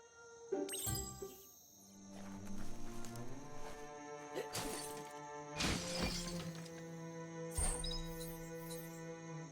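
Wooden box smashed apart in the video game Biomutant, with several sharp splintering, shattering crashes and clattering debris over a sustained musical drone.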